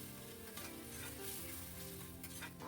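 Potatoes with turmeric and spices are stir-fried in a pan with a splash of water, producing a continuous soft sizzle with scraping stirring sounds, quiet and close, no talking.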